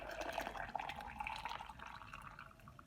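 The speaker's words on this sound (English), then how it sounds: "I'm just gonna take my hot water" Hot water poured from a small kettle, a soft continuous liquid trickle and splash heard close up and alone at low level, steady for about three seconds with small gurgling bursts.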